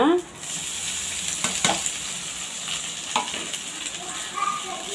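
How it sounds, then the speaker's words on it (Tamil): Cooked rice tipped into a hot pan and stirred, a steady sizzle with scraping spoon strokes and soft clatters, close and fairly loud with no talking. "இப்போ நம்ம சாப்பாடை போட்டுடலாங்க"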